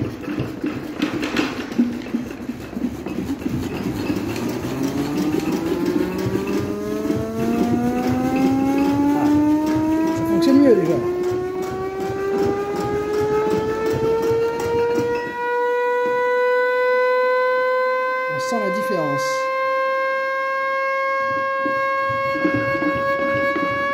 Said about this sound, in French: J'ai réglé la sirène qui fonctionnera bien mieux.